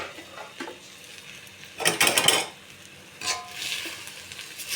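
Drumstick leaves are stirred in a frying pan, giving a soft steady sizzle broken by a few louder scraping stirs and light clinks of the utensil against the pan.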